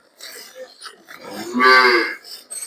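A freshly calved cow moos once, a long, loud, rising bellow in the middle, with quieter rustling and faint noises before and after.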